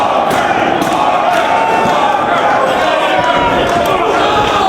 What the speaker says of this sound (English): the crowd chanting Walker